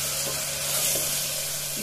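A steady, loud sizzle of biryani masala spices frying in hot oil, continuous crackling and hissing close up with no talking.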